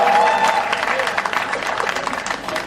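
Loud applause from a crowd at a Kabir poetry gathering, a thick continuous patter of many hands clapping close by, steady for the whole stretch and mixed with faint voices.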